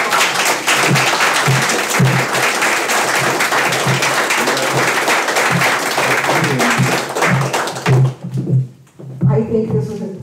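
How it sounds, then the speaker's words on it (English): An audience at a civility-in-politics forum gives the speakers a loud, sustained round of applause that fills about eight seconds, then tapers off as a voice begins talking. "Give them another round of applause."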